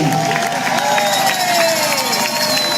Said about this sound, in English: Give her a round of applause as she makes her way